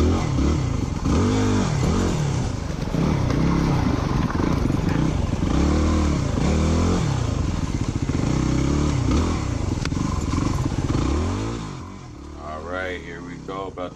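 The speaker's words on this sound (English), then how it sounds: "if you're out there riding a dirt bike and haven't been in the woods yet" A Yamaha WR250R dirt bike ridden through the woods, its engine revving and bogging in steady close-up bursts throughout before easing off near the end, with faint talk mixed in.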